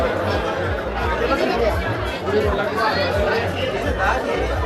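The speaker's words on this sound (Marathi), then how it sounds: "बघा किती गर्दी आहे." A thick babble of many voices surrounds the Ekvira temple, steady overlapping conversation from a packed crowd close by, unbroken for the whole stretch.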